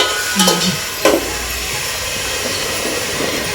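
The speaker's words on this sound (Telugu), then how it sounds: "చూడండి చేప ముక్కలు అయితే ఎట్లా ఉడుకుతున్నాయి" Fish pieces simmer in a spiced curry with chilli, turmeric and ground coriander-fenugreek in a home kitchen, giving a loud steady bubbling hiss with a couple of brief clinks early on.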